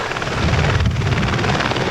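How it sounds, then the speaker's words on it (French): A model aircraft engine at a 1981 flying meet runs loud and close, a steady buzzing drone with a throbbing pulse that swells slightly midway, no voices. "essayer de remettre le moteur en route et de repartir"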